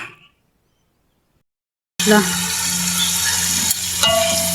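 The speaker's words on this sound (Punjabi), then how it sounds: "ਘਿਓ ਐਡ ਕਰਤਾ, ਪਿਆਜ਼ ਐਡ ਕਰਤੇ ਆ, ਲੱਗੀਆਂ ਕੜੀ ਬਣਾਉਣ।" Onions fry in hot ghee for kadhi, a loud continuous sizzle close to the pan after a short silence, with occasional stirring clatter.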